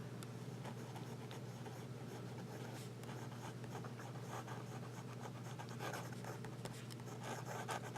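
Jinhao 599 Safari fountain pen nib used reverse side up, scratching quietly across paper in short continuous strokes, faint and close, without speech.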